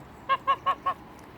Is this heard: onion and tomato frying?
no